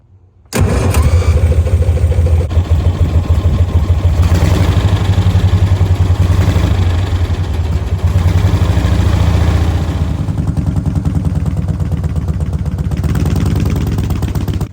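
A 1937 Morgan 3 Wheeler fires up abruptly after a moment of quiet, then runs loud and close with a throbbing, steady engine note that shifts slightly as it settles. No voices are heard.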